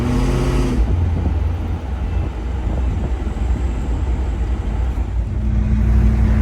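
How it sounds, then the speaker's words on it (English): The engine of a 1965 Chevrolet Impala under throttle, a loud low rumble that swells and sags unevenly as if hesitating, heard close with a steady idle hum before and after. "When I give it gas, I can feel it like stuttering"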